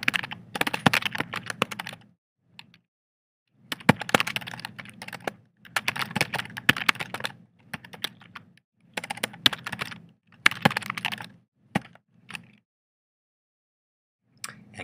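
Fingers type on a computer keyboard in bursts of rapid clicking, pausing briefly between phrases, close and clear with no talking.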